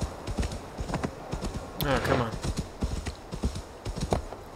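Horse hooves clip-clopping in Assassin's Creed Valhalla, a quick regular run of hoofbeats close up, with a brief whinny-like tone in the middle and a voice briefly talking over the gallop.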